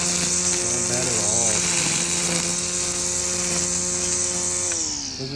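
An Atlas 80V brushless cordless 16-inch string trimmer runs with a steady high-pitched whine throughout, its pitch wavering slightly and dropping toward the end, with someone talking over it.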